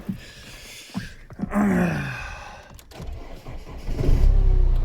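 A car engine cranks and catches, then settles into a low idle that swells slightly toward the end, heard close by.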